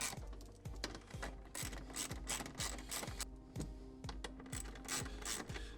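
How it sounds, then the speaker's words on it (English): Ratcheting clicks from a hand tool tightening the mounting hardware on an MTX Audio X3-17-THUNDER3 subwoofer box, a steady series of close, repeated ratchet strokes in a regular rhythm with no talking. "Go ahead and tighten it all down."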